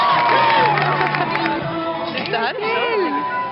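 Crowd at a medieval knight show cheering and whooping steadily, a busy mix of shouts and children's voices with talking mixed in under the roar.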